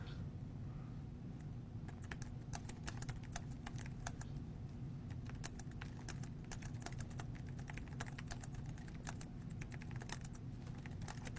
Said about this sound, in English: in the midst of typing this email